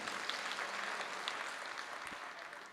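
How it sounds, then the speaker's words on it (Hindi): An audience at a Hindi-Urdu poetry recital (mushaira) in Amravati, Maharashtra claps vigorously in a dense, continuous burst. It tapers slightly toward the end, and no one speaks over it. "एक बार जोरदार तालियां बजा दीजिए आप"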